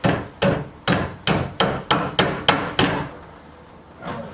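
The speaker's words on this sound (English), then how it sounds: "And then hammer her in." Hammer blows drive a plastic peg into the bottom of a wooden desk drawer during assembly: eight sharp, evenly spaced knocks close by, then a quieter thud.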